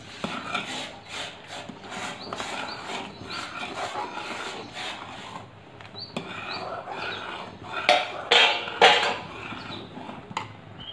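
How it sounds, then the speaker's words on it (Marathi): A spoon scrapes and rubs through Sangli-style semolina upma in a cooking pot, giving repeated rasping strokes that get louder and sharper toward the end, with no voices. "थोडा थोडा रवा टाकून हलवत राहा"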